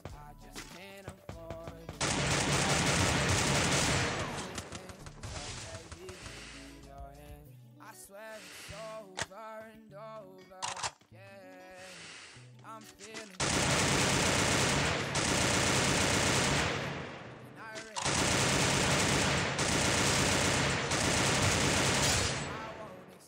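Bursts of automatic gunfire from a mobile shooter game running on BlueStacks come in several long, loud, dense volleys separated by quieter gaps, with a voice briefly audible between them.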